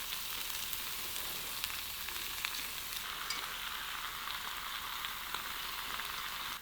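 Red-braised pork belly is laid over blanched broccoli in a preheated small stone pot and sizzles with a steady, close hiss that runs unbroken throughout, with no voices.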